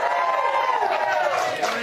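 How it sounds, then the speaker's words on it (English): A crowd gathered for free Whataburger burgers lets out a short, loud burst of cheering and whooping, with voices blending into one rising roar. "People are cheering for burgers from Whataburger."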